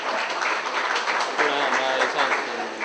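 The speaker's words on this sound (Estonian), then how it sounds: "Aplaus Margi autorile." An indoor audience at a stamp presentation applauds the stamp designer with steady, dense clapping that swells slightly midway, close and loud throughout.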